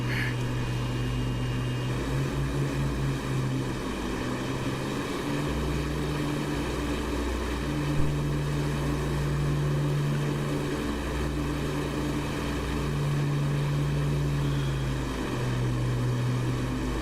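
A de Havilland Mosquito propeller aircraft drones steadily in a flight video game, a loud continuous engine hum with a pulsing low tone that rises and falls slightly over about seventeen seconds, with no talking.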